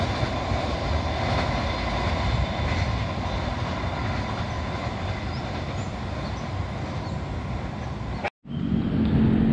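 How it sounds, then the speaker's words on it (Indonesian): A railway level crossing alarm at JPL 130 Kedung Gede in Indonesia with a train passing, a loud steady roar of rolling wagons filling the scene almost throughout, briefly cut off near the end before resuming. "Nah, ini sepertinya suaranya bunyi nih alarmnya."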